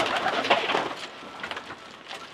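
A yearling racing pigeon in a loft coos close by, with a few soft, rolling throaty calls that are strongest at the start and fainter afterward.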